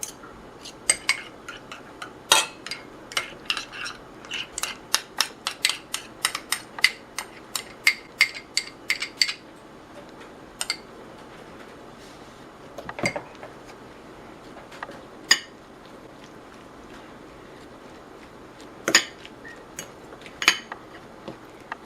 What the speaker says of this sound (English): Mix well.